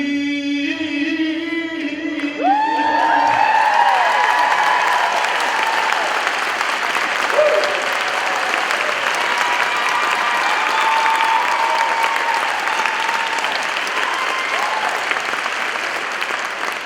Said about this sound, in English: I saw people that can sing clapping as well